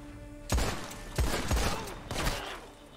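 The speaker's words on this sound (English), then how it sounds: "Now I can, if I want, pull out my guns and fire back." Video game guns fire in four sharp, booming shots spaced roughly half a second apart, each with a short decaying tail over a low steady background hum.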